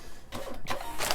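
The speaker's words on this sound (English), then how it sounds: "Click and print." A Rollo thermal label printer runs off a shipping label at a packing desk, making a short series of quick whirring and clicking bursts, close and fairly quiet.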